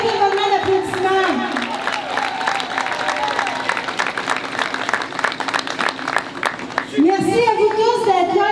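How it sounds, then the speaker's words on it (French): A crowd at a Moroccan Throne Day festival in Montréal claps steadily and densely for the organizers. Cheers rise through the applause while a speaker's amplified voice runs over it at the start and again near the end. "tous les gens autour, qui méritent un moment d'applaudissement"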